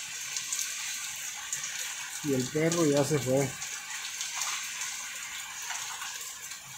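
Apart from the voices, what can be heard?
light rain falling at night, water running off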